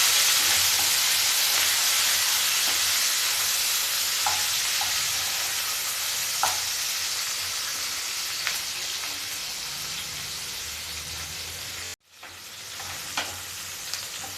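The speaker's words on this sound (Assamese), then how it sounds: "পিঁয়াজখিনি অকণমান ফ্ৰাই হ'বলৈ দিওঁ।" Onions fry in a pan for a curry, a steady hiss of sizzling oil running the whole time with a few soft clicks of stirring, and a brief break before the sizzle resumes.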